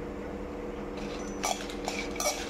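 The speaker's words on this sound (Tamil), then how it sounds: "அதுக்கு 9 வரமிளகாயை எண்ணெய் ஊற்றாமல் வறுத்துக்கலாம்." Dry red chillies are roasted in a pan without oil, with a few light metallic clinks and scrapes of stirring over a quiet background.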